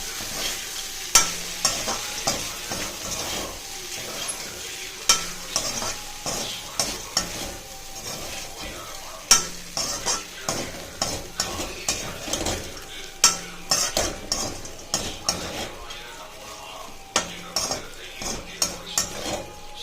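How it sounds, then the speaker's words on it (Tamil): Crumbled idli is stirred with salt in a pan for lemon idli, the spatula scraping and clinking against the metal in an irregular, fairly close rhythm with a faint sizzle beneath and no talking. "இப்போ நம்ம உதுத்த இட்லி இதில் ஆட் பண்ணிக்கலாம். இதை நல்லா கலரி வச்சுருங்க."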